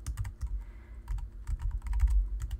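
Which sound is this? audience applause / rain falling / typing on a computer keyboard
typing on a computer keyboard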